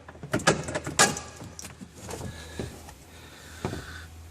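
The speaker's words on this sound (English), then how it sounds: "you will be able to pull out the whole handbrake assembly" Handbrake assembly being pulled out of a Renault Twizy with a sticking hand brake, giving a few close metallic clunks and rattles early on, then lighter scraping and knocks, with no talking.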